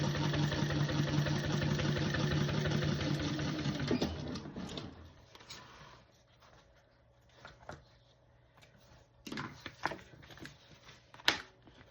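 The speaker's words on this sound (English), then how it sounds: "Top stitch on what we just did." A sewing machine runs top stitching at a steady, fast mechanical hum for several seconds, then stops. Light handling clicks and rustles follow close by.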